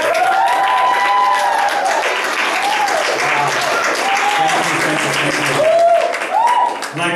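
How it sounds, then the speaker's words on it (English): Loud studio audience applause at an LA Rocks TV taping in Hollywood, steady dense clapping with a few cheers and voices mixed in throughout. "If I could get you to applaud again."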